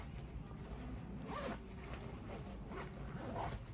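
A diaper bag is zipped shut in one quick, close zipper pull, soft and brief against a low background rumble.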